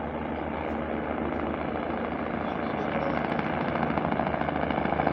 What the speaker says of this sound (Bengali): এই হেলিকপ্টার নামছে দেখো